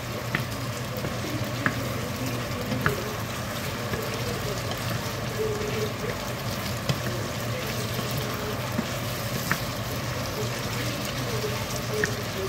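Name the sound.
stirring menudo frying in a pan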